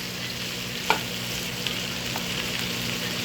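Cabbage fries in a pan with a steady, dense sizzle, close and continuous, plus a faint clink or two of stirring.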